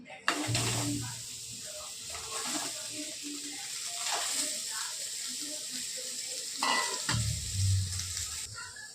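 Potatoes drop into a frying pan with a burst of sizzle, then are stirred in hot oil beside cluster beans, a steady close hiss broken by scraping spoon strokes and a second loud sizzle burst near the end.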